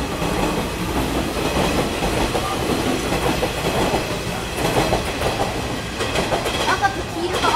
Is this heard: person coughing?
no